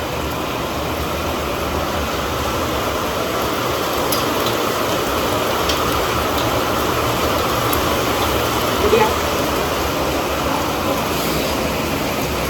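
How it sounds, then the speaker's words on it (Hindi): Heavy rain falling outdoors among trees, a steady dense hiss that holds evenly at a loud, close level throughout. "अब तो तेज और हो गई बारिश, और तेज और तेज।"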